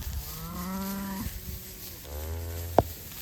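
Cattle with cows and young calves out on pasture, giving two long low moos with a short sharp call between them, fairly close and with no talk.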